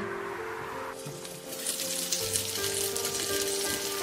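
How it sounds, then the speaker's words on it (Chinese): A chive pancake brushed with vegetable oil pan-fries over low heat, giving a soft, steady sizzle that brightens and thickens after the first second and then continues evenly without talk. "开小火慢煎"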